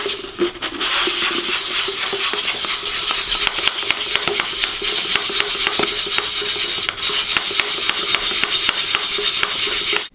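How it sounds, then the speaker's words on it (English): A cut glass bottle edge rubbed with 1000 grit sandpaper, a steady, close, continuous gritty scraping that runs unbroken for the whole stretch, with only a momentary break near the end. "we can now polish it with 1000 grit"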